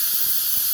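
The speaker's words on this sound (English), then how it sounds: "Not igniting, but it's going to an instant gas." Liquid flashing instantly into vapor on a very hot surface, a loud, steady, bright hiss close up, continuous throughout the short moment with no voices.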